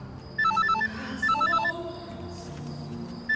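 A telephone rings in two trilling bursts with a gap between them, moderately loud over a quiet indoor background, with no one speaking.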